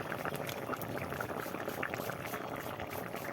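Crab curry from the Sundarbans simmering in a covered pot after water is added, a soft continuous bubbling and hissing at low level, with no talk.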